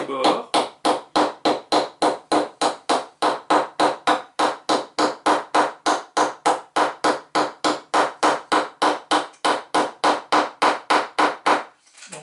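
A hammer flattens rivet edges on homemade bamboo kitchen tongs, striking about thirty sharp, evenly spaced blows in a quick, steady rhythm, loud and close, before stopping abruptly.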